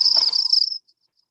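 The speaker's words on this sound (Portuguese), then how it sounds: "Um som de grilo." A single short burst of high, rapid cricket chirping, loud and close, trailing off into silence.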